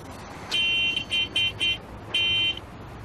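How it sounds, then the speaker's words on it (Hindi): A car horn honks in a pattern: one long blast, three short beeps, then another long blast, loud and nearby over faint background noise. "ये हॉर्न, इसको भी यहीं बजाना है।"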